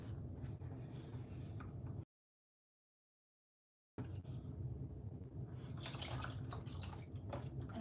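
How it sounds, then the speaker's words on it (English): Water rinses over the carrageenan-sized surface of a Pebeo water marbling kit, heard as two close bursts of splashing and trickling separated by a brief silence. "so let's give that a quick rinse"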